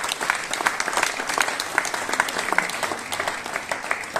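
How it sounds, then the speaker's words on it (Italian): Steady applause from an outdoor crowd at an evening dialect poetry event in a southern Italian village, even clapping of moderate loudness lasting a few seconds without speech. "Diamo un applauso a questo giovane che ha lasciato la vita."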